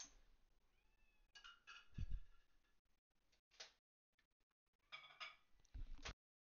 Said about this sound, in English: I don't know if you can hear my cat being very, very, very pathetic over wet food